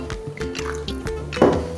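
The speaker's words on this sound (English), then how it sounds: "so with the wine, you just pour a little bit in" Wine is poured into a cooking pan, giving a short close splash and trickle of liquid with a brief louder gush near the end.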